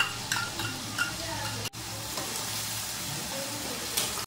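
Steady, close sizzling of onion, garlic and ginger paste frying in a hot pan, with a brief break partway through before the sizzle resumes.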